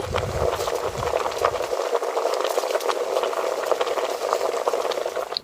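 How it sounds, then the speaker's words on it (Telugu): Sugar melts into syrup in a pan under steady stirring, a continuous bubbling hiss with light spoon scrapes at close range and no voices. "పంచదార మొత్తం బాగా కరిగి పాకం వచ్చే వరకు బాగా కలుపుకోవాలి."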